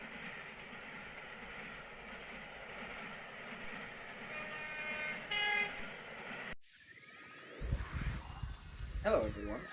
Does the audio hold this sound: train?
yes